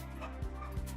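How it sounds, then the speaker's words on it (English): Dogs barking nearby indoors, two sharp woofs about a third of a second apart, loud and close, set against a low steady background hum. "they will just not stop barking"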